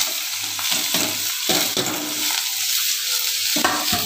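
Steamed carrots and beans stirred in olive oil in a pan, a steady close sizzle with rhythmic scraping and stirring strokes repeating throughout.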